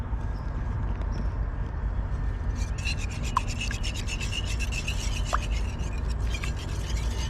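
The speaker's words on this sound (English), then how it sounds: "Now we're going to whisk them together." Eggs, nine of them, are whisked in a bowl outdoors, giving a steady rapid scraping and tapping rhythm that runs throughout over low background rumble, with no talk.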